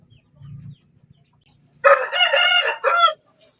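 A rooster crows loudly and close by in a long, ringing call after a few soft, low clucks from chickens in a flock.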